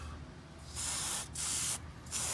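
Aerosol can sprayed during rear brake pad replacement on a Lexus GX470, three close hissing bursts, the middle one longest, with nobody talking.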